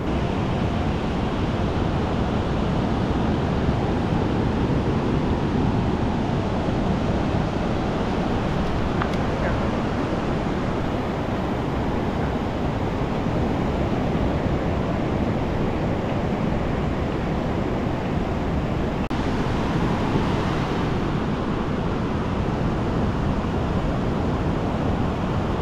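Ocean surf and wind at Black's Beach in San Diego, with a constant broad roar of waves and gusts buffeting the microphone and no talk.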